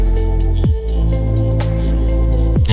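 Underwater ambience while spearfishing off Cadlao Island, El Nido, with sharp metallic clicks and knocks, about three distinct strikes of a spear tip against rock, close and ringing briefly.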